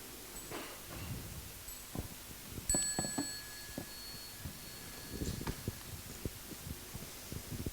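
A small meditation bell is struck during a Buddhist Dharma gathering with the Sangha: a clear, sustained ring that lingers and fades over a few seconds amid soft room noise and shuffling.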